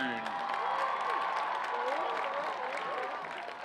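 Crowd applause at a high school football game, a steady dense wash of clapping and voices filling the stands under a public-address announcer, holding loud throughout and easing slightly at the end.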